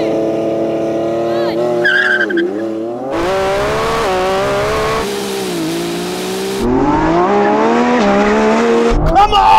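Supercars launch in a drag race between a Lamborghini Revuelto, Ferrari 296 and SF90, engines revving hard with tires squealing through wheel spin, then upshifting as they pull away; loud and close throughout.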